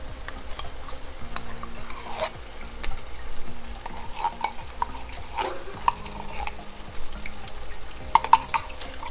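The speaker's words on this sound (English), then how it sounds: "just stir it to mix it in" Tomato paste being stirred into cabbage frying in a pan, with a spoon scraping and clinking against the pot over a steady low sizzle, in irregular strokes and no talking.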